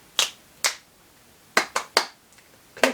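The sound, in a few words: finger snapping imitating lobster claw noises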